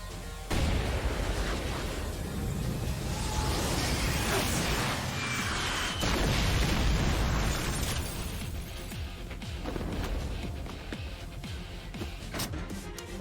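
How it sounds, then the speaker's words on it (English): Rocket launcher explosions in the video game Yakuza 6, a dense, loud barrage of booming blasts and bursts with little let-up, rolling on and off across the whole stretch. "That's a rocket launcher."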